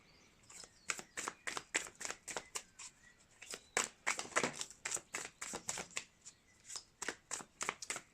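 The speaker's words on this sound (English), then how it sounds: "Whilst I'm shuffling" Tarot cards from the Heartscape Tarot deck being shuffled by hand, a quick run of papery riffles and slaps in an uneven rhythm, close and fairly quiet.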